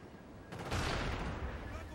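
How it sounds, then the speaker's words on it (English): A Galil rifle in a video game opens up in a burst of loud gunfire that breaks in suddenly and then rolls on as a dense, sustained crackle. "Using the Galil again with a hardened perk and take magazines"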